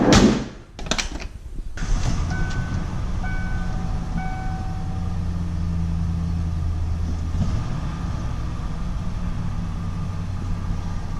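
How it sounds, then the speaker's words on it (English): A pickup truck pulls out of a garage, with a door rumbling open at the start and then a steady low engine drone, loud and close, running throughout. "So let's get this truck out of here, that truck in here"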